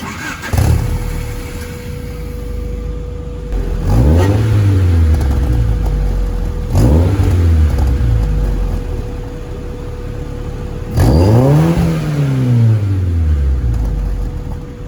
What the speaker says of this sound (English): car's warmed up. Let me just give you a few revs.